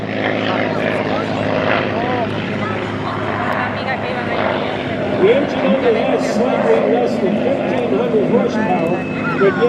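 Flying aerobatics at an airshow, a Packard-engined P-51 Mustang gives off a sustained propeller roar that rises and wavers in pitch as it maneuvers, growing louder toward the end.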